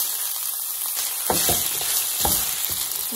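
Pot pie filling sizzling steadily in a hot pan, with a few scraping stirs of a utensil breaking through the constant frying hiss.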